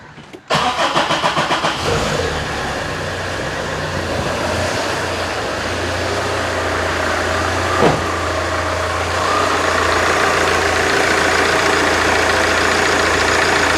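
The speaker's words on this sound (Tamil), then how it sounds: "இப்போ வந்து இன்ஜினை ஸ்டார்ட் பண்ணி காட்டுறேன் பாருங்கள்" An old Tata car engine cranks with rapid chugging, fires up, then idles steadily with a loud, even rumble; a brief knock sounds midway.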